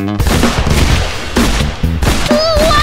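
Animated revolver gunshots sound as a loud, dense run of blasts over busy cartoon background sound and music, with little pause between shots.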